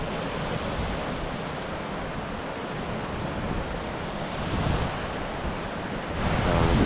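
Waves roll onto a Lake Michigan beach at sunrise at Kohler-Andrae State Park in Wisconsin, a steady close wash of surf with wind rumbling across the microphone and a surge near the end.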